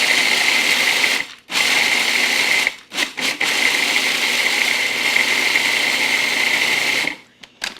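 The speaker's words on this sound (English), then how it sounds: "you do this in a food processor because this would be very difficult to do if you're doing it by hand." A food processor pulses almonds in loud, close bursts of high whirring blade noise, with short gaps of silence between the pulses.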